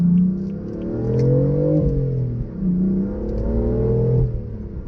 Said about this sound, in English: Stock, they're probably one of the louder stock exhaust systems I've heard on the road.